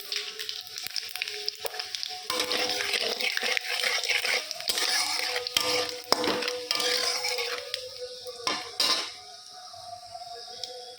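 Spices and fried lentil dumplings (bori) hitting hot oil as a tempering, a loud, close burst of sizzling with scraping stirs and utensil clinks that gradually settles to a softer hiss.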